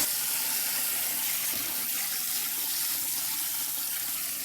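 Tap water runs steadily into a sink while raw chicken livers are rinsed, a constant close hiss and splash with no pauses.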